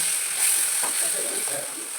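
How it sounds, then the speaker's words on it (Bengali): Boiled potato pieces fry in oil with poppy seed paste ground with green chilli, a steady close sizzle with faint stirring scrapes and a high hiss throughout. "এই পোস্ত বাটার ভাজা পোস্তর মধ্যে এটা কিন্তু বেশ করে পোড়া পোড়াভাবেই ভাজতে হবে"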